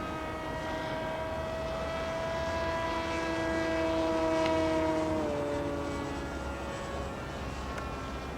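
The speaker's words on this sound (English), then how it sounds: "I thought I heard something that sounded like a model airplane, and I did." Model airplane flying overhead at Calton Hill in Edinburgh, a steady motor whine with a clear tone that swells and then drops in pitch as it passes, over open outdoor ambience.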